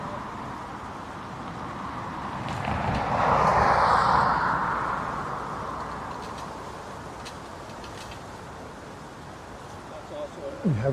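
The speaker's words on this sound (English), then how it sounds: "We have got the Aer Lingus that just came in from Zurich, crossing in front." An Aer Lingus jet arriving from Zurich taxis across at a windy Dublin Airport, its engine whine swelling and fading over steady wind noise, moderately distant.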